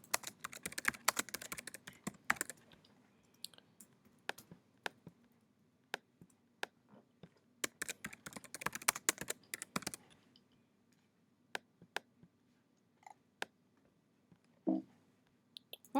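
Typing on a computer keyboard to enter chart titles, close and quiet, with a dense burst of rapid key clicks at the start, then scattered single taps and short runs across a near-silent room with no talking.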